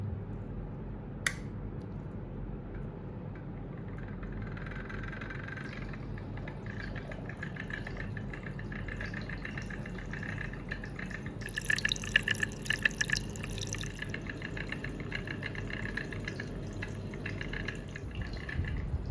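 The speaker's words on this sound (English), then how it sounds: "I drop in the stir bar and crank up the stirring." A magnetic stirrer spinning a stir bar in liquid among pennies being cleaned, a steady low motor hum with light watery rattling and a brief clink, growing busier midway and running unbroken for nearly twenty seconds.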